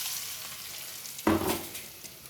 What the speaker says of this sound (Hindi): अब हम तड़का लगाते हैं